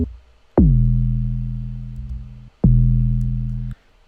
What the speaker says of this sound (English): So this the main bass is like sounds like this.